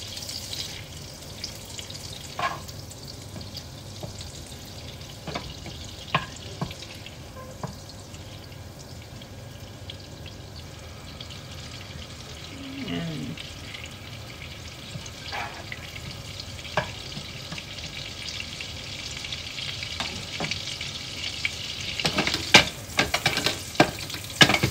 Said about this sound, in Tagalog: Yung olive oil at saka itong butter. Hintayin lang natin matunaw ang ating butter.